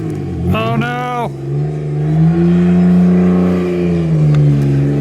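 A supercharged BMW E46 drift car engine revs up and holds a high, whining tone, loud and close, with supercharger whine riding over the engine note.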